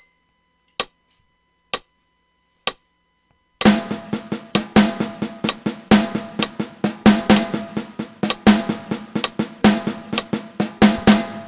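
A drummer plays an accent exercise from a Level 1 lesson on accents and ghost notes, starting with three sparse clicks and then a dense run of sharp strokes in which louder accented hits stand out, close and clear with no talking.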